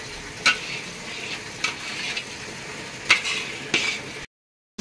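Moong dal halwa fried in a pan with saffron, a low continuous sizzle broken by four sharp scraping spoon strokes against the metal, close and alone.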